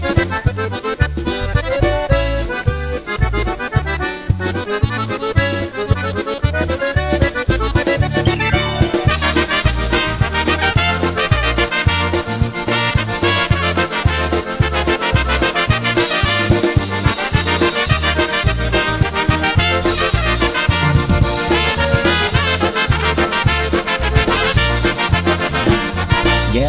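A band plays a steady, upbeat pop-rock tune with drums, bass and layered instruments, loud and continuous throughout with no talking.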